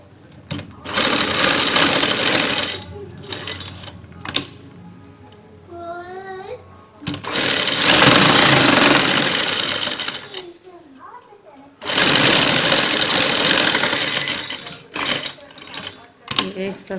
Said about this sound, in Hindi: अब साथ साथ जो हमने पेपर पट्टी कट की हुई है कपड़े ऊपर पेस्ट है उसके साथ साथ इस तरीके से सिलाई लगानी है।